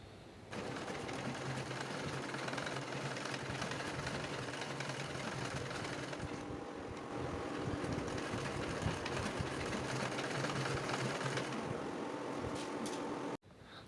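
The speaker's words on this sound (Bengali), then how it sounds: "দেখুন আমি এখানে সেলাই করে নিচ্ছি" A sewing machine stitches a round-cut petticoat with a steady, close, continuous mechanical whir that runs almost without a break for around thirteen seconds before stopping abruptly.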